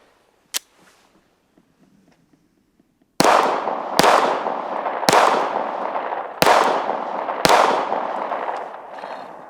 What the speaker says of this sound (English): if you shoot it 6 times, turns out fair amount of damage